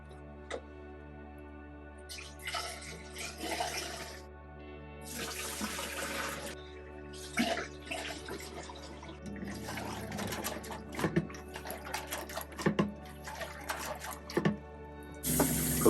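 Tap water runs in intermittent bursts into a film developing tank as film is rinsed by filling, agitating and dumping, with rushing and splashing that stops and starts several times, close and moderately quiet.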